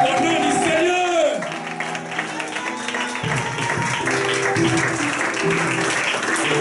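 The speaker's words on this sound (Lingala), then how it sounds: "Est-ce qu'il y a des mamans qui peuvent faire des cris de joie au nom du Seigneur?" Congregation at a Christian concert cheering and clapping, a dense wash of applause and joyful shouts that fills the space, with a voice talking and a brief sung or held tone near the start.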